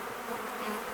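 Honey bees buzz steadily around an open Flow Hive during an April apiary inspection, a dense, continuous hum close by with no talking.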